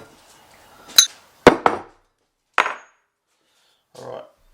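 A hammer strikes a metal center punch to mark holes for engine mounts: four sharp, close metallic taps, two in quick succession, separated by quiet pauses, with a duller knock at the end.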